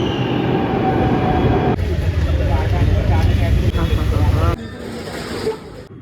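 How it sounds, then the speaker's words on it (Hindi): A Delhi metro train pulls into a station, its loud rumble and wheel noise filling the platform before easing off toward the end, with station sounds around it. "अब आ रही है मेरी मेट्रो।"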